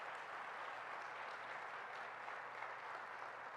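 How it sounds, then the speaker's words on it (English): An audience applauds Governor Brad Little at a New York event, steady sustained clapping from a sizable crowd throughout. "I want to give a round of applause to Governor Brad Little, who's joined us"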